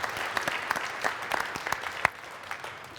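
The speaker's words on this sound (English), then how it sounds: "Again, a round of applause" Moderate applause from a small audience at an Adobe Education Summit showcase, individual claps audible and fairly sparse, with one sharper clap standing out.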